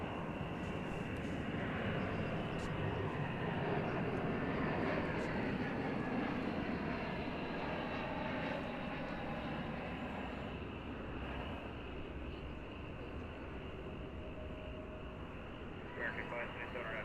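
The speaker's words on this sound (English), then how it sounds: "Next arrival is from Fort Myers, Florida. It's American Flight 2736, an Airbus A321." An American Airlines Airbus A321 arriving at Dallas Fort Worth airport gives a continuous, broad jet engine roar at a distance, steady throughout, with speech faintly present.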